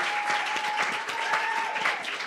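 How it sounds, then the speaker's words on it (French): Gathered audience at a testimony event clapping for a speaker, fairly soft, steady applause with a faint sustained electronic hum running underneath, no speech over it. "Est-ce que tu peux l'encourager par une bonne main d'acclamation?"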